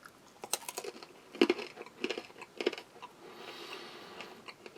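A few sharp, dry snaps and cracks of a small cracker from a Russian military ration break out in quick bursts, with quiet crumbly ticks between them, close and fairly faint.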